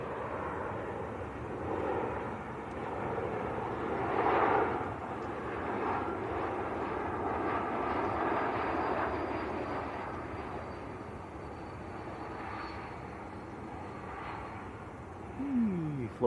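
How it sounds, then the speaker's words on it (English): Air France Airbus A220 on final approach from Paris Charles de Gaulle, a fairly faint, steady jet hum with slight swells, heard at a distance over outdoor background. "Air France on finals in from Paris Charles de Gaulle."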